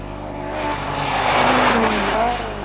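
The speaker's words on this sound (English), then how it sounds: "The leader's RS 1800 headed for home" A Ford RS 1800 rally car racing on a stage of the 1982 Ulster Rally along Northern Ireland's coast, its engine note rising and falling through gear changes as it passes at moderate distance.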